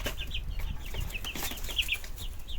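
White broiler-like chickens, offspring of crossbred hens, cluck and chatter close by in a coop or yard, a busy overlapping run of short calls with a rustle of movement.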